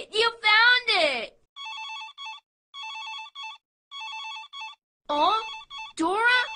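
Cartoon telephone ringing in three short electronic trill bursts with brief gaps between them. Animated character voices talk before and after the rings.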